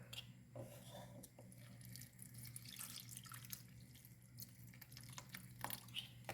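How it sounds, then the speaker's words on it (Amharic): Drinking water poured onto chopped orange pieces in a bowl, a faint, steady trickle and light splashing heard alone at low level. "ከዛ ውሃ እንጨምራለሁ።"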